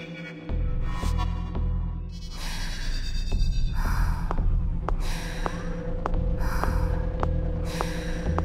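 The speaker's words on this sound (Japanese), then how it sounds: "心臓の音" A steady, throbbing heartbeat from the horror video game Escape from Togaezuka Happy Place, pulsing regularly under heavy breathing and dark ambient drone.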